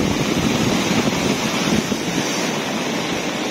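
A river swollen by heavy rain rushes in a steady broadband roar close to the microphone, with wind buffeting mixed in.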